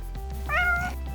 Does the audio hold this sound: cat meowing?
yes